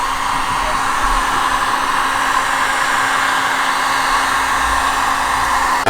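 Heat gun blowing hot air over a Tesla headlight, a loud, close, steady roaring hiss that holds constant throughout, with no talk.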